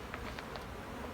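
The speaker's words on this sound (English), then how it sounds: "You can see these bees with pollen on their legs" Honey bees buzz around a hive during a spring cleanup, giving a faint, steady insect hum with a few passing buzzes beneath heavy outdoor background noise.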